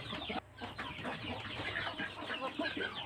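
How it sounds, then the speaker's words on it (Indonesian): Free-range village chickens cluck busily and continuously while eating mixed homemade feed, several birds close by in a dense overlapping chatter with small pecking sounds. "Ayamnya lahap, suka dengan racikan pakan yang sudah kita racik dengan susah payah."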